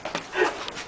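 A dog gives a few short, close vocal bursts, yips and whimpering sounds, over a bit more than a second, fairly loud and outdoors near a gate.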